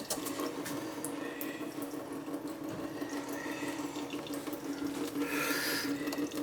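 Water running and trickling from a bathroom faucet into a sink during a plumbing repair, a steady splashing wash with a brief brighter gush near the end; no talking.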